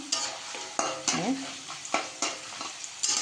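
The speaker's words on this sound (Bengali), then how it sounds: "এইবারে আলু ভাজা বসিয়ে দিয়েছি" Potatoes frying in a pan, with quiet oil sizzle under sharp, repeated stirring scrapes and clinks of a spatula; a single brief word is spoken.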